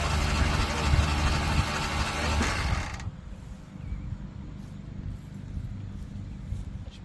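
A 1981 Jeep CJ7 engine is cranked over, giving a loud rough mechanical roar for about three seconds before it abruptly cuts off, leaving only a low rumbling background.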